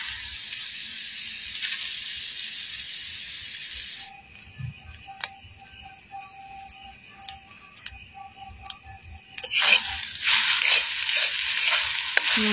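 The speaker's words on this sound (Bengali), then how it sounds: "এখানে মা নারকেল ভাজার জন্য নারকেলটা কড়াই দিয়ে দিয়েছে।" Grated coconut fries in a wok over a village kitchen fire, with a soft sizzle, scattered ticking scrapes and clinks of stirring, and a louder hiss in the last few seconds.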